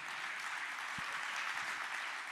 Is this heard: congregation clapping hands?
yes